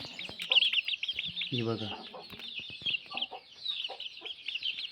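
Young free-range desi chicks, just over two months old, cluck and cheep in a steady high chatter alongside occasional hen clucks, with someone talking briefly over them.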